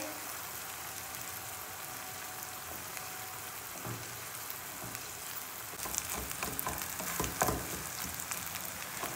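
Egg and onion bhurji frying in a pan, a steady close hiss and crackle that grows busier and louder partway through, with occasional stirring.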